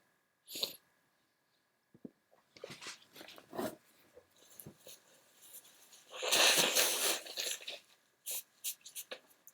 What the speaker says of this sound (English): Sorry, I had to blow my nose.